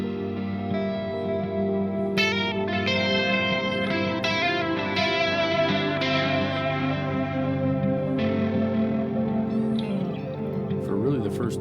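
Electric guitar played through a Dawner Prince Pulse pedal with delay, a dense, wavering effected tone with echoing repeats and shifting notes filling the whole stretch, no talking over it.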